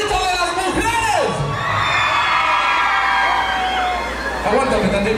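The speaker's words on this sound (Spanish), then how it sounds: "El grito de las mujeres." A crowd of women at a tournament's audience-vote contest screams and cheers loudly, high shrieks and whoops rising together, with a voice calling out over the noise.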